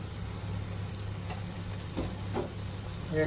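Biryani masala with turmeric and chilli powder fries gently in a pan over low gas, giving a soft, continuous sizzle with occasional faint stirring ticks, quiet and without voices.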